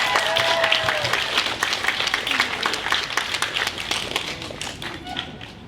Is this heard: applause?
yes